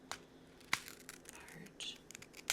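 Scissors cut apart a diamond art sheet in a few crisp, quiet snips spaced across a hushed, close setting, with faint soft rustling between the cuts.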